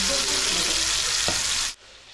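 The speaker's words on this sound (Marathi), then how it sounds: "तेल गरम झालंय आता शिपरी टाकायला करू आपण सुरुवात" Oysters drop into hot oil with butter and fry in a loud, dense, close sizzle that holds steadily, then cuts off abruptly near the end.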